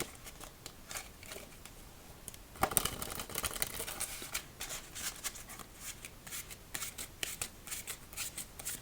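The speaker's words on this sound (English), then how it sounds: "Just want to make sure to give it a nice, thorough shuffle." A deck of playing cards is shuffled thoroughly before a hand of solitaire, with close, crisp riffles and soft flicking bursts repeating steadily at low volume.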